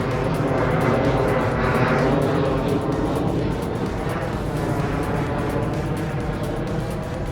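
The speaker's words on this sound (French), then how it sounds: "Je vais laisser l'avion passer." An airplane passes overhead, its loud, broad engine roar swelling and slowly fading over several seconds with no voices present.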